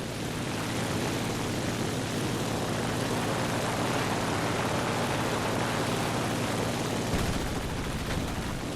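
A propeller aircraft engine drones in a flight combat video game, a loud, continuous buzzing roar that holds steady throughout and thins slightly near the end, with no speech.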